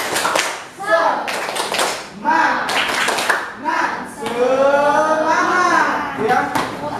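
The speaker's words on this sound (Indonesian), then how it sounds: "sekali lagi tepuk semangat" Classroom children clap out the rhythmic tepuk semangat chant together, sharp hand claps in patterned bursts mixed with their chanting voices, close and lively throughout.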